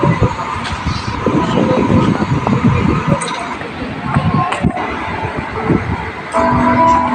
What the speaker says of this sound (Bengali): ট্রেন ঢুকছে, ট্রেনের আওয়াজ।